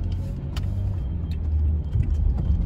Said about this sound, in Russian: вон там безводительный автомобиль едет. Waymo называется.